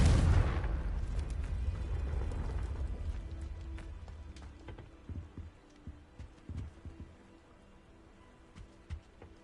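A Confringo spell in the Hogwarts Legacy video game bursts in a loud blast at the start, then rumbles and fades, leaving scattered faint thumps and crackles.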